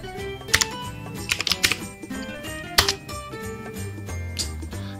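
Keys clatter on a computer keyboard in short irregular bursts of clicks, close and fairly clear, with some louder taps standing out and no speech over them.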